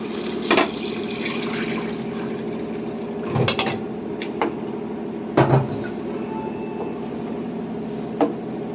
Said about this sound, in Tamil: நம்ம வெறும் புளி தண்ணியை மட்டும் இப்போ இந்த கையில் ஊற்ற போகிறோம்.